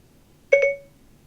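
Siri voice assistant activation chime: one short, bright electronic tone with a quick double onset, close and clear, ringing out alone against near silence.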